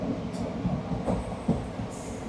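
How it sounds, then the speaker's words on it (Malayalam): A passenger train in motion, heard from inside the carriage: a steady low rumble with soft, irregular knocks and clatter from the rails, no voices. "ട്രെയിനിൽ കയറി."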